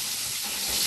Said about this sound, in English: my chicken's just frying